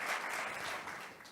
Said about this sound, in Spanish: Un aplauso a los canariones.